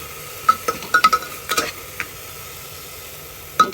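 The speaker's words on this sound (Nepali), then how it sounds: "यसलाई चाहिँ हामीले एकछिन चलाउनु पर्ने हुन्छ" Mung dal and rice being stirred in a pressure cooker for baby porridge, a series of soft scraping clinks of a spoon against the metal pot, spaced irregularly over a faint background hum.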